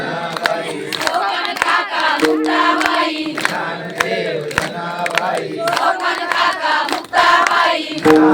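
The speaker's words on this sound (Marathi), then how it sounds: "टाळ्या वाजवायच्या बरं का, टाळ्या वाजवायच्या." A crowd at a kirtan gathering sings a bhajan while clapping along, with rhythmic hand claps spiking over loud, dense group voices, close and sustained.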